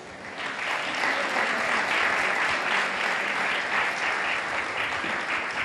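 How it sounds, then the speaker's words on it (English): Audience at a Cambridge school event applauds steadily for a student group, a full, continuous wash of many hands clapping that holds at an even level throughout, heard from within the hall. "they need a round of applause."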